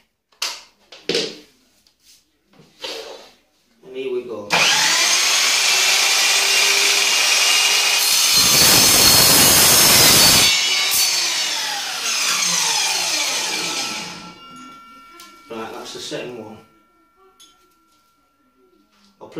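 A power saw cuts lengths of steel for a snake rack, a harsh whining grind lasting about ten seconds that rises into a louder middle burst, with short spoken remarks before and after the cut.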